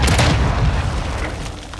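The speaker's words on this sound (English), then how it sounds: "Throw a flash grenade." A loud, rumbling blast from a flash grenade going off in Call of Duty: Modern Warfare II, dense and booming at first, then slowly fading over a couple of seconds.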